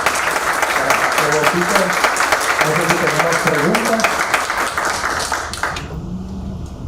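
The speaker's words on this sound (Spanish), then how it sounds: "Fuerte el aplauso, por favor." A conference audience at a Spanish-language business event applauds steadily for several seconds while a presenter speaks over the clapping, then the applause cuts off abruptly near the end.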